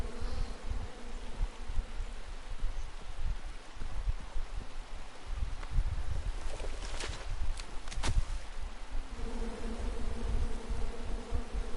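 Angry bees from the King's Quest video game, a steady buzzing drone over a low rumbling game ambience, with a few sharp bright accents midway and a louder hum returning near the end.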